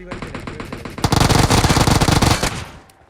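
UMP submachine gun fire in PUBG Mobile rattles out in rapid automatic bursts, loud and dense, beginning after a spoken lead-in and mixing with game sounds as a voice talks over it.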